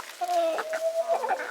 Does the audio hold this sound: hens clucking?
yes